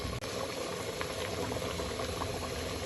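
Beef nihari meat braises in a pot with a steady, busy bubbling and sizzling that runs unbroken and fairly loud throughout, with no talking over it.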